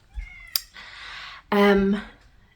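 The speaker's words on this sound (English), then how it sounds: "Ignore the cat." A house cat meows several times close by, a short mew followed by a longer drawn-out meow, with a person talking in between.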